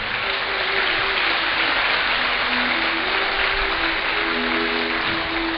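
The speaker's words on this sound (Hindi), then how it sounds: "बहुत तालियां बजाई।" Sustained applause from a large audience at a Bhagwat Katha religious discourse in Siliguri, steady dense clapping throughout with faint tonal hum or voices underneath.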